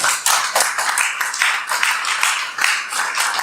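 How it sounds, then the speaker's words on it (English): Audience applause welcoming Mr. Kendall as a speaker at a lecture on Changgyeong-gung and Korean national character, a steady close patter of many hands clapping throughout with no voices. "let's welcome Mr. Kendall with a big round of applause"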